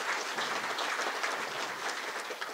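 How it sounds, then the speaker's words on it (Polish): Audience applause at a Christmas concert in Baranów Sandomierski as band members are introduced, a soft, even patter of many hands clapping at a distance throughout. "Oczywiście tak, wielkie brawa."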